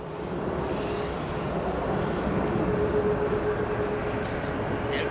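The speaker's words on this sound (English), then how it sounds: "Currently departing United Airlines Flight 987 headed to Paris Charles de Gaulle International Airport." Steady broadband roar of a United Airlines heavy jet departing O'Hare Airport for Paris, a continuous distant engine rumble that holds fairly even from start to finish with a faint tonal whine.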